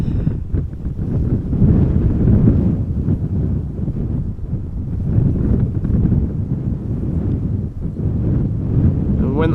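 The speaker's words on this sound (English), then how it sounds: "the constant wind blowing" Constant wind blowing across an open spot at Amsterdam Schiphol Airport, a loud, steady roar buffeting the microphone throughout, with no breaks.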